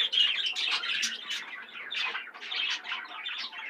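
Three green-line parakeet chicks squawk and chirp continuously in a dense, close, shrill chorus of overlapping begging calls, with no talking.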